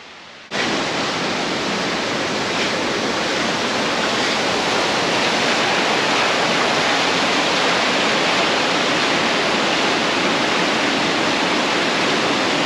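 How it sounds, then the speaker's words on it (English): Waterfalls in Edessa, northern Greece: a loud, steady roar of rushing, crashing water that starts abruptly and holds unbroken throughout, with no voices. "definitely come and see the waterfalls here in Edessa"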